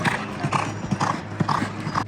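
Racehorses galloping at a race in Kentucky, hooves drumming in a steady, rapid clip-clop rhythm of repeated beats, loud and close with no talk over them.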